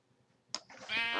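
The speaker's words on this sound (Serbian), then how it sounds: "Ovčice, ovčice, ovčice, daj mi unice." A sheep in the Minecraft video game lets out a single short bleat, close and clear, rising after a faint rustle and a soft thud.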